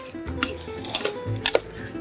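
Burger sauce sweetened with honey being stirred in a bowl, a utensil clinking and scraping against the sides in a few quick, close strokes.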